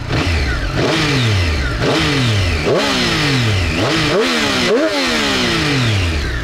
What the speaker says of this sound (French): Et écoute la sonorité de ce 3 cylindres